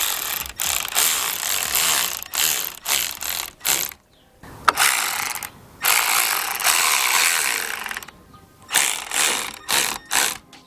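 A ratchet wrench tightening Subaru Forester XT roof rack bolts: loud, close bursts of fast clicking, each run lasting a second or two and separated by short pauses.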